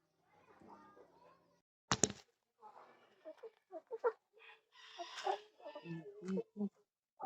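Rhode Island Red chickens give scattered short clucks and murmurs at close range, broken by one sharp knock and a few louder calls, with a person speaking nearby.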